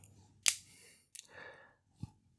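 The small scissors on a Victorinox pocket knife give a sharp snip, then a couple of fainter metallic clicks and a soft thud, close and quiet with no talking.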